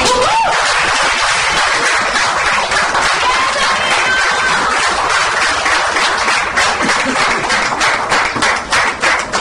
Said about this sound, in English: So big round of applause for